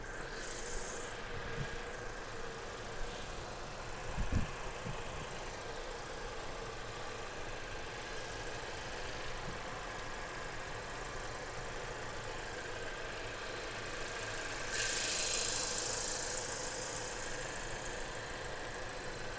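A small three-cylinder car engine idles with a steady low hum and a faint whine, with a few brief knocks early on and a slight rise in level toward the end.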